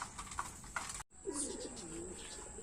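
Soft, low pigeon cooing rolls along in the background after a brief gap, with a steady high hiss and faint outdoor noise throughout.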